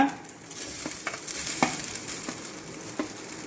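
Rice tossed and sautéed in a pan with grated coconut and salt for coconut rice: a soft continuous sizzle under scattered spoon scrapes and light clicks that come every second or so.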